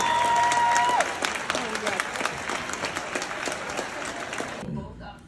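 Graduation ceremony audience applauding and cheering in a large hall, dense sustained clapping with a brief whistle-like tone at the start, fading and cutting off near the end.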